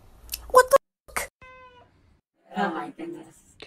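A cat lets out a few short, loud meows close by, separated by pauses, with a person speaking in between.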